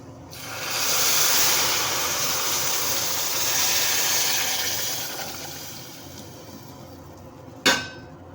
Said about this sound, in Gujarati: જે આપણે પાણી ગરમ કરીને રાખ્યું છે એ એડ કરી દઈશું.